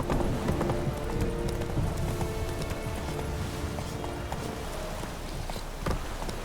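Roach, a horse in The Witcher 3, gallops with steady clip-clop hoofbeats under a constant wash of rain, loud and close throughout.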